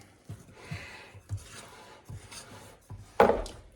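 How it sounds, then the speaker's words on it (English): No-knead bread dough of yeast and warm water is stirred together in a bowl for a savoury loaf: soft, intermittent scraping and dull knocks, close and quiet, ending in one louder scrape. "I'm going to mix this together. We do not need to knead this. We just mix it all together."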